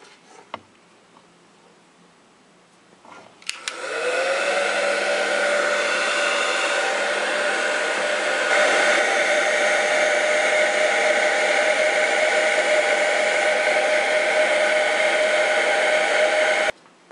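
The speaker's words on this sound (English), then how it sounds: "I'm going to use the heat gun. I cleaned up this round. So I'm expecting this to soften it up considerably." Heat gun blowing continuously at close range while softening thick encaustic wax, a steady loud whooshing hiss after a click to start, which cuts off at the end.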